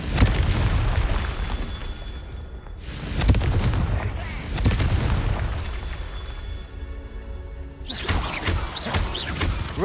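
Confringo fire spell blasts in Hogwarts Legacy, a run of loud booming explosions bursting one after another with rumbling decay between, set against game background sound.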